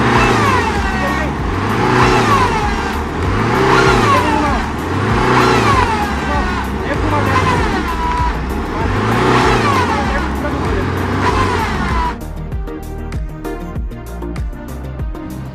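A Tata Harrier 140PS revs hard in repeated rising surges as it powers out of a muddy off-road pit, its engine loud and close throughout before settling to a lower drone near the end.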